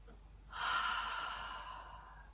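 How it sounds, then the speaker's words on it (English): A single long, deep breath is drawn in slowly and audibly, a soft airy rush that swells and then gently fades in a quiet room. "when we take a long, deep breath"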